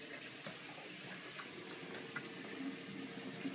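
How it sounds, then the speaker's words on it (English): A hot water tap running into a sink after a boiler repair, a faint, steady hiss of flowing water with soft splashing, heard alone. "and you turn the hot tap on,"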